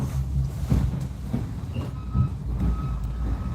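Passenger ride on a commuter train, a continuous low rumble of wheels and carriage noise with faint tonal squeals, steady and close throughout.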